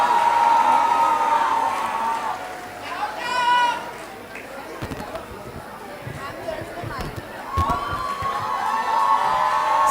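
A crowd at a youth awards grand finale cheers and shouts loudly, with whoops and excited voices layered over a steady roar of chatter throughout.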